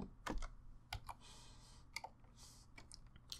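Quiet, close typing on a computer keyboard: a run of irregular key clicks and taps with short pauses between bursts.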